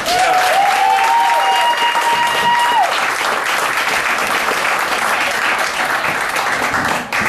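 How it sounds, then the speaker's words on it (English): Audience applause at a comedy show, a sustained dense clapping crowd with a brief whistle-like tone riding over it early on, fading out near the end. "I want you to give me a pretty short round of applause for my friend Tom Bassett"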